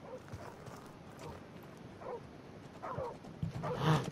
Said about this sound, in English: There's dogs.